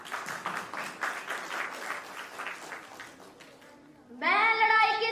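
At a storytelling competition grand finale, an audience applauds for about four seconds with a pulsing, moderately loud clatter of hands, which fades before a voice begins speaking.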